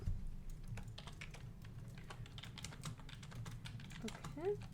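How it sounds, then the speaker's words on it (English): Rapid keyboard typing clatters steadily under a low background hum, with a brief murmur near the end. "That's the sound of Mal Googling the answers"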